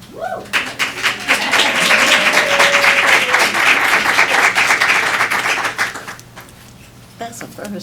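An audience at a Pitt County Department of Social Services board meeting bursts into dense, loud clapping that holds steady for about five seconds before tapering off, with a few voices near the end.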